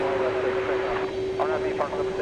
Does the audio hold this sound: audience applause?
no